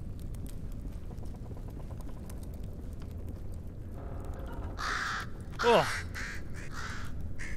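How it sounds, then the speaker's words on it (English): Crows caw in the video game Bramble, with one loud, harsh caw rising near the end over low game ambience, and a player briefly grunts. "Frickin' birds."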